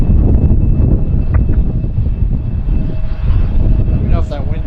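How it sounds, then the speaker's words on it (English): A jet cargo airliner at Harrisburg airport roars with reverse thrust after landing, a loud, steady broadband rumble heard from nearby, heavily mixed with wind buffeting the microphone and a faint radio voice. "Hopefully you can hear the engine sounds alright. Reverse thrusters."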